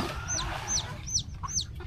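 A chicken clucks in several short, quick calls spaced about every half second, fairly close over a low background rumble.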